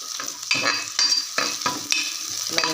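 Oil sizzles steadily as fenugreek and onions fry, with repeated scraping and stirring strokes rising every half second or so.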